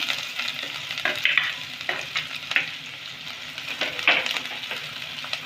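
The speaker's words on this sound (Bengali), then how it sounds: "পেঁয়াজটা আমি ভেজে নেব লাল করে" Chopped onions frying in a pan until browned, with a constant sizzle punctuated by repeated scraping stirs at irregular intervals, close and clear.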